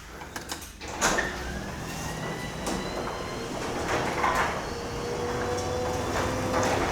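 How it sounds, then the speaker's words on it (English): A panelled garage door on a Halloween display in Minnesota rolling open, a continuous rumbling, scraping slide after a brief clatter at the start, steady and moderately close with no voices. "the garage door, this is very unique. There's panels there, and I'm going to open that up."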